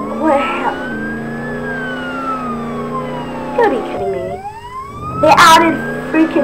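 Wailing police sirens rise and fall in a Roblox Jailbreak soundscape, with overlapping siren tones and Lamborghini engine noise, while a voice talks over them.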